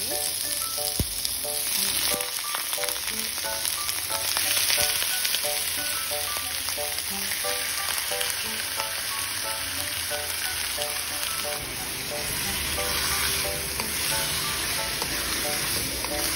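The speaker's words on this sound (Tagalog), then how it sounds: "So, iprito lang natin yung karne" Pork frying in a little cooking oil in a pan, a steady close sizzle with crackling pops continuing throughout, occasional faint stirring and background tones, no talk.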